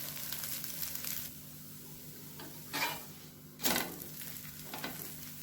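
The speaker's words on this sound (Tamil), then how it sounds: "இது ஒரு பக்கம் நல்லா வெந்ததுக்கு அப்புறம் திருப்பி விட்டு 2 பக்கமும் நல்லா மொறுமொறுப்பா வேகிற வரைக்கும் வேக விட்டு எடுத்துக்குங்க" A rice flour and coconut dosa cooking on a pan gives a faint, low hiss, broken by two brief louder scrapes or flips near the middle.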